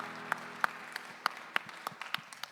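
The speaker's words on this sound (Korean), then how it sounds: "박수로 서로의 삶을 응원하며 축복합니다." Church congregation at a Sunday young adults' worship service clapping in a steady, even rhythm, about nine sharp claps in a roomy space with a faint murmur under it.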